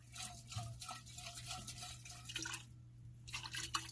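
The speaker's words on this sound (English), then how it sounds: "I'm using the water pressure tank to pour some water down here to flush this out." Water poured from a pressure tank down a crawl-space floor drain during a reverse osmosis filter change, heard as soft irregular splashing and dripping at close range with a steady low hum underneath.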